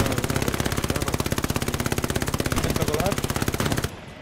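Sustained automatic gunfire in the WWII shooter Hell Let Loose, a rapid, evenly spaced burst of close, loud shots lasting nearly four seconds before stopping abruptly into quieter ambience.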